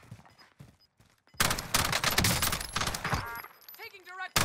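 Call of Duty Warzone gunfire: a burst of rapid automatic shots erupts after a second of quieter sounds, loud and dense, with a game announcer voice and players talking over it.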